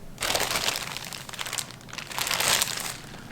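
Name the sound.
plastic potato bag being handled and crinkled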